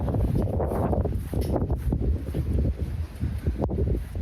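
Strong wind buffets the microphone continuously, a loud, low rumbling roar with gusty surges throughout and no voices.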